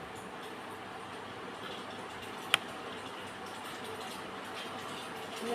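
Curry simmering in a pot, a soft continuous bubbling hiss that stays faint and even, broken by one sharp click partway through.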